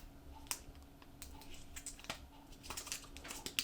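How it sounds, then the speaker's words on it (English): Crinkling and clicking of a thin plastic wrapper being peeled off a small Apple AirTag tracker, a quiet run of close crisp rustles and sharp ticks with no talking. "So let's take off this plastic wrapper"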